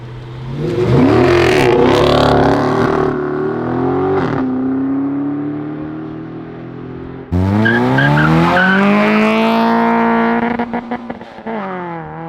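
At a Halloween car show, an engine revs hard while the tires spin and squeal in two long screeching bursts, loud and close, rising and falling in pitch, with a brief lull between them.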